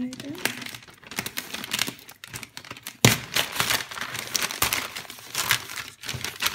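Paper crinkling and rustling, with sharper tearing and scraping bursts as paper wrapping on an Easter basket is cut open, up close and fairly loud.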